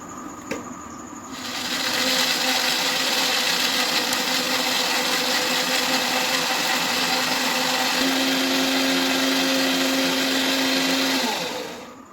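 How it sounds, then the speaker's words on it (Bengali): A kitchen mixer grinder blends cashew nuts with a little water into a paste, starting with a click and then whirring loudly and steadily for about ten seconds before it winds down. "কাজু বাদাম তেরো চোদ্দোটার মতো একটু জল দিয়ে মিক্সিতে পেস্ট করে নেবো"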